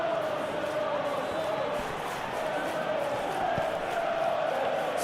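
Stadium crowd noise in the PES 21 football video game during a simulated Brentford vs Arsenal match, a steady loud roar and cheer of the virtual fans filling the whole stretch.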